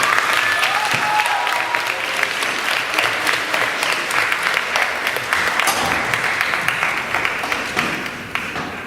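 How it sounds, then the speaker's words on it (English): A debate event audience applauding its leaders, dense sustained clapping from a crowd that carries on for several seconds before starting to thin out. "All right, let's give a big round of applause for all of our leaders here."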